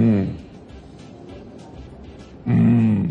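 A person on a Pakistani morning talk show imitates a lion's roar with his voice: a short, loud, throaty growl at the start and another at the end, separated by quieter studio sound.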